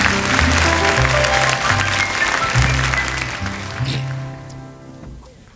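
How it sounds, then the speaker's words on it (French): Studio audience applause on a 1983 French children's talent TV show, loud sustained clapping with music-like tones underneath that fades out toward the end. "Monsieur Jérémy, qu'on applaudit très fort."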